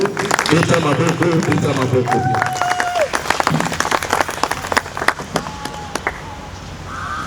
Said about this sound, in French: nous pouvons acclamer pour l'homme de Dieu